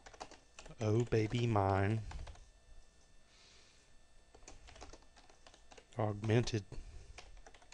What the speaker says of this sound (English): we'll type in a title